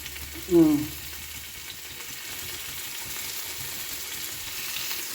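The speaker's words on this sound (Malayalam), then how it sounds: "ഒരു തക്കാളി മുറിച്ച് വാട്ടുന്നു" Chopped tomato softens in a pan for a fish curry, giving a soft, low frying hiss under a brief tonal clatter near the start, steady and fairly quiet afterward.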